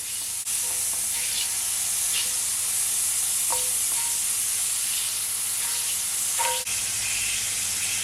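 Unsalted butter sizzles and hisses steadily in a hot frying pan, close and continuous, with occasional light utensil scrapes and small pops over the dense frying noise.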